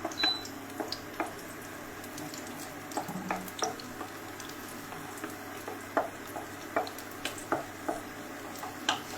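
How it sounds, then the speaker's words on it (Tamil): Raisins roasting in ghee for carrot halwa make a soft, continuous frying sizzle punctuated by a regular run of light ticks and taps from stirring, moderately close and without any talking. "அப்படியே கொஞ்சமாக ஒரு கோல்டன் ஃப்ளேவர் வர வரைக்கும் நம்ம வந்து இதை ரோஸ்ட் பண்ணிக்கலாம்."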